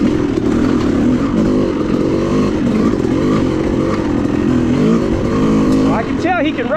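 Dirt bike engine droning loudly and steadily with fluctuating revs on the Enoree Cycle Trail OHV, a rough buzzing roar close by, with someone talking over it.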